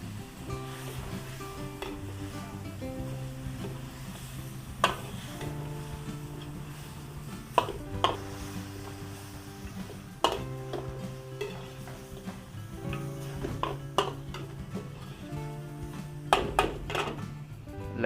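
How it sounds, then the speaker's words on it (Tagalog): Pork ribs frying with black pepper and soy sauce, a steady sizzle under repeated metal utensil clinks and scrapes against the pan as the meat is stirred. "Haluin po ulit natin."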